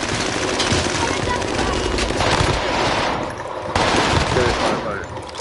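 Rapid automatic gunfire from a shooting video game rattles on almost without pause, dense and loud, with excited voices talking over the shots.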